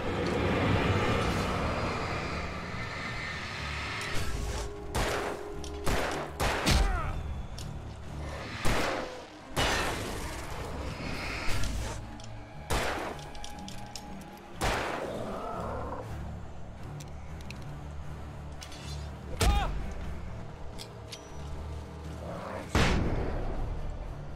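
Gunshots from the game Alan Wake Remastered, a series of sharp, loud cracks at irregular intervals over a rumbling, droning background.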